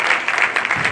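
Brief burst of audience applause at the end of a school general-knowledge quiz match, steady dense clapping close by, with no talk over it.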